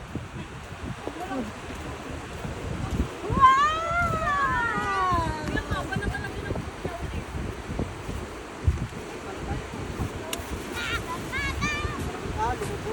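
Sea waves wash steadily onto a beach in a broad, rushing surf noise with wind buffeting the microphone, while people talk and call out over it.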